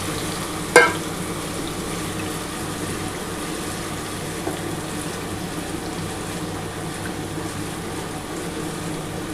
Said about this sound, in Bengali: সেই তেলটার মধ্যেই আমি কিন্তু এই যে মাছটা মাখিয়ে রেখেছি, মাছটা দিয়ে দিলাম।